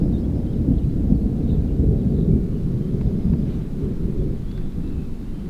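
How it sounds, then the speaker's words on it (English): A big thunderstorm's thunder rolls in a long, loud, low rumble that holds steady for several seconds, with no voices over it. "Quite a big thunderstorm."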